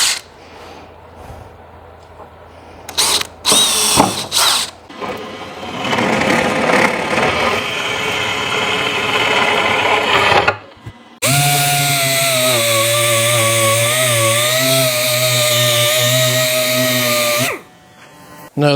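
A power drill bores a hole in a wooden plank during a Ford RS200 rally car chassis rebuild. Scattered handling clatter comes first, then a loud, steady motor whine runs for about six seconds before stopping abruptly.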